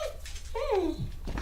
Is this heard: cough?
no